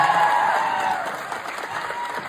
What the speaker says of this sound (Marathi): एकदा जोरात टाळ्या सगळ्यांसाठी